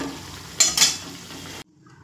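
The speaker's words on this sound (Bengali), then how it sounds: "তো একইভাবে আমি সব বড়াগুলো ভেজে নিয়ে ফিরে আসছি।" Papaya fritters (bora) fry in hot oil in a pan, giving a close, steady sizzle with a brief louder burst of stirring or movement before the sound cuts off.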